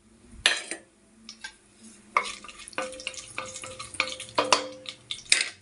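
Cinnamon and cloves frying in hot oil as the base for a mutton curry, with a steady sizzle and repeated scraping and clinking of a spoon stirring in the pan, close and fairly loud.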